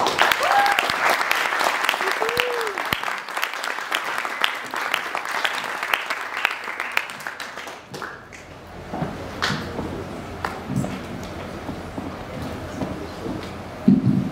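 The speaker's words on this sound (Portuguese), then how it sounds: "Uma salva de palmas para elas." A lecture audience at a university data science event gives a round of applause, a dense patter of many hands lasting several seconds before thinning out into scattered claps and quieter room noise.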